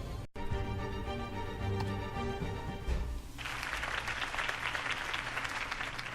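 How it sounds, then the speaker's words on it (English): Music-like tones from the video game Batman: The Telltale Series give way midway to dense, steady applause from a crowd that keeps going loudly to the end. "could have heard that applause"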